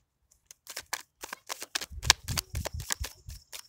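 Tarot cards shuffled by hand during a love reading, a quick run of crisp riffling flicks and soft slaps in uneven bursts, close and clear with no talk.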